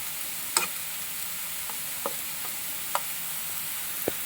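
Chopped onions frying in a pan for a Kerala-style chicken stew, a steady soft sizzle broken by a few light scrapes and taps of a spoon as the onions are stirred toward golden brown.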